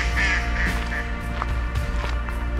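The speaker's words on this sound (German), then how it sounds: "Und die Enten rufen sich hier gegenseitig zu, erzählen sich was." Ducks calling back and forth near Castle Ritzebüttel, a few short quacks over steady low outdoor background noise.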